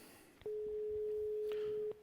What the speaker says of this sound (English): here that's the Spanish dial tone because we're actually calling Spain